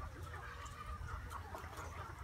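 A free-range rooster with a bare, tailless, featherless rear clucks softly in a few short, faint calls against quiet outdoor background noise.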